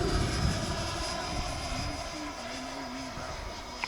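An RC model Me-262 jet airplane flies at half throttle, its engine a steady distant whine and rushing roar that holds smoothly across the sky with a faint rising and falling pitch.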